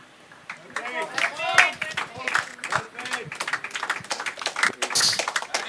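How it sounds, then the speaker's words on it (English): Teammates clap for a batsman at a 100-ball cricket match, a scattered patter of nearby hand claps heard under steady commentary. "Lifting his bat up for the claps from his teammates."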